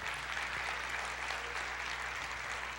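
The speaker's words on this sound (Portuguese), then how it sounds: "pode aplaudir o Senhor" A church congregation applauds during a sermon, a steady wash of many hands clapping at a moderate distance in a reverberant room, even in level from start to finish.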